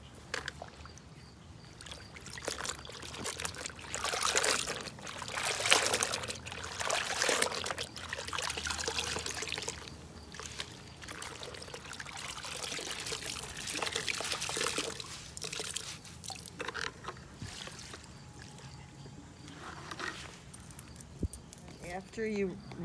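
Items are rinsed in salty water during rust dyeing, with continuous splashing, pouring and trickling water heard close by for the whole stretch, rising and falling in bursts.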